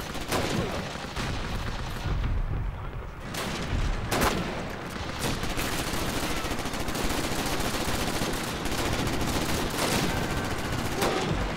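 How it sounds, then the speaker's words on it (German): Dense, continuous gunfire in the World War II shooter Call of Duty: United Offensive, Kharkov outskirts mission, with repeated sharp shots and bursts layered over a loud, steady battle din. "Welcher Hurensohn schießt mich da ab?"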